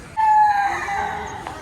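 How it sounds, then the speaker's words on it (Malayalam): A chicken at a busy fish, meat and chicken market calls out once in a short, strained squawk, fairly close, over a steady background hum of market activity. "അപ്പോൾ ഒരുപാട് കോഴികളൊക്കെ ഉണ്ട് ഇവിടെ."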